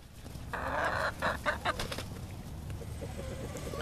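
White Leghorn hens clucking in a flock, with a burst of loud, close clucks in the middle and softer chatter before and after, and no talk.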